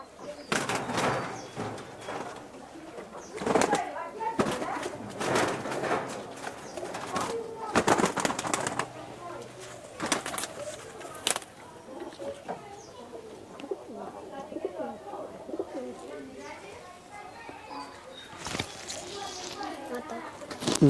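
Kamanga pigeons at a pigeon sale in Kolkata coo repeatedly and fairly close, with bursts of nearby talk and market bustle mixing in and out across the scene.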